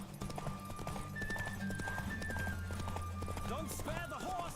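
Roach the horse galloping in a race in The Witcher 3, rapid steady hoofbeats with a short whinny, close and continuous under someone talking over it.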